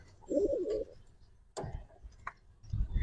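A silver pigeon at a pigeon farm gives a short, low, warbling coo, close by, followed by scattered knocks and shuffling sounds in an otherwise quiet space.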